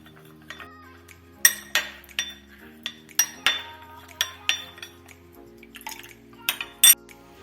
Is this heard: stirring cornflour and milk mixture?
yes